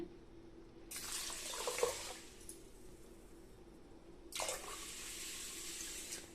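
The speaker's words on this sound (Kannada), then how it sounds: "ಈಗ ಸ್ವಲ್ಪ ನೀರು ಹಾಕಿ ನೆನೆಸಿಡ್ತಾ ಇದ್ದೀನಿ" Water pours steadily into a bowl of washed finger millet in two separate splashing bursts, with a quiet pause between them.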